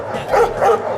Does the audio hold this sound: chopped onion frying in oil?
no